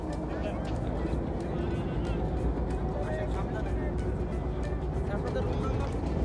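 A trawler on the Rupsa river runs with a steady, close engine rumble beneath constant nearby talk and general crowd babble.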